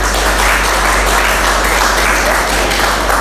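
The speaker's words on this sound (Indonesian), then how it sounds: "Oke, aplaus untuk kita semua" Applause from students at the end of a college lecture class, a dense steady wash of clapping hands, close and loud, running unbroken throughout with no gaps.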